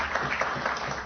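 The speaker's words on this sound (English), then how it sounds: "Let's have a round of applause for Stephanie." An audience at an academic award announcement applauds, a short burst of steady mid-distance clapping filling the whole moment.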